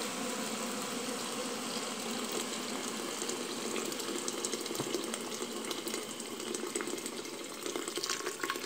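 Hot water poured over brown rice in a pressure cooker, a continuous soft splashing and trickling flow lasting several seconds at moderate level, with no talking.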